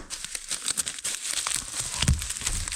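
Cardboard shipping box being taped shut for an eBay order, with loud, continuous crinkling and tearing of packing tape close up, rising into a sharper rip near the end, no talking.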